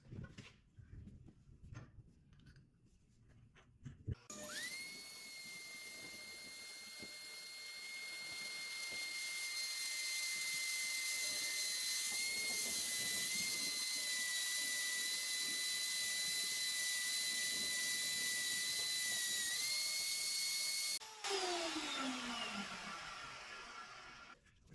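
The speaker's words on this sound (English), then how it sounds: "Go ahead, drill with a smaller bit to get started." A small bit drills a starter hole, likely while repairing lawn equipment: a steady high electric whine begins abruptly, holds loud and even for about seventeen seconds, then cuts off and winds down.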